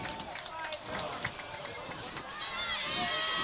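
Fans at a high school football game between Metamora and East Peoria raise a broad crowd cheer that swells toward the end, heard behind a commentator talking over it.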